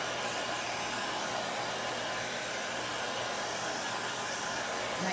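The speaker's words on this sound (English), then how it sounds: "So I'm just using my hair dryer to speed up the process." A hair dryer blows continuously up close, a loud, steady rushing whir that never changes pitch.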